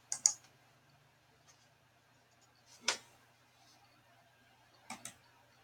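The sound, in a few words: computer mouse click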